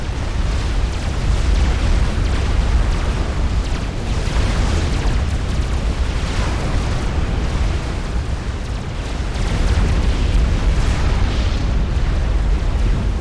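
Shots and explosions from units in a 4v4 real-time strategy game on the Setons map, a dense continuous roar of booming blasts and bursts that fills the whole stretch without let-up.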